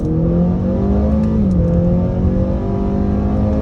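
A 2022 Acura ILX pulls away hard in first gear, its engine note loud and close and steadily rising in pitch, with one brief dip around a gear or throttle change before climbing again, and no talking over it.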